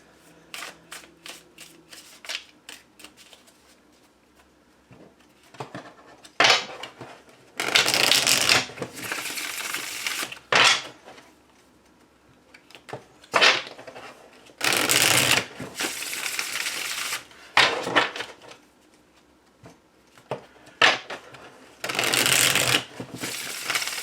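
Tarot cards being shuffled up close: rapid riffling and flapping bursts, some long and loud, with quieter card handling and clicks between them.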